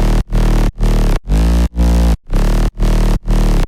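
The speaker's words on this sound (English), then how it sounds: "Now the bass sounds like this." A synth bass layered with white noise plays a series of sustained, loud notes, each cut off by a brief gap of silence, with a steady pulsing rhythm and a bright hiss over the low tone.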